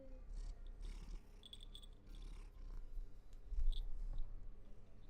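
A cat purrs in a low continuous rumble that stays faint and close to a quiet mic, with small clicks and rustles on top.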